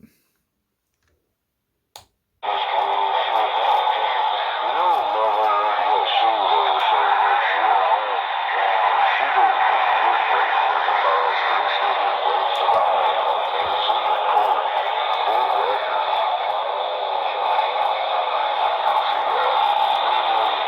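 CB walkie-talkie hooked to a base station coax cable: a couple of clicks as it powers up, then a steady loud burst of radio static and hiss that runs unbroken to the end.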